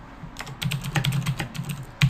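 Rapid bursts of typing on a computer keyboard as keyword phrases are entered into SEO software, with clustered clicky keystrokes at close range and a brief pause in the middle.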